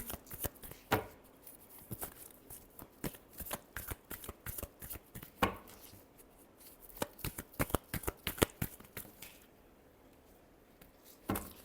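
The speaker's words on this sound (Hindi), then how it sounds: "Last shuffle." Tarot cards being shuffled by hand, a run of crisp riffling and slapping bursts in an irregular rhythm, close and fairly quiet, with no voices.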